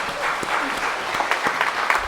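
Church congregation clapping during a Sunday worship service, a sustained wash of applause with a few sharper individual claps, moderately loud, with faint voices underneath.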